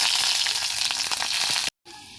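Peeled garlic cloves hit hot oil with nigella seeds in a wok, giving a loud, close, crackling sizzle that holds steady before cutting off abruptly near the end.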